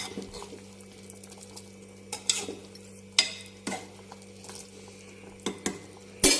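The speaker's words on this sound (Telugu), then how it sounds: "గరిటతో ఒకసారి ఇలా కలుపుకుందాం" A ladle stirs aloo brinjal curry in a pot, its scrapes and clinks landing in scattered sharp knocks over a low simmering hum, close by and with no voices.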